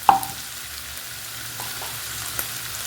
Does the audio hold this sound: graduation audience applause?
no